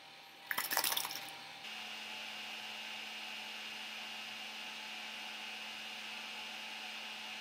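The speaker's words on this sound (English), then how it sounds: "I'm going to start the dryer up and it'll be noisy." A brief clatter, then a pet grooming dryer starts on a Pomeranian and runs with a steady, loud whooshing hum that continues without change.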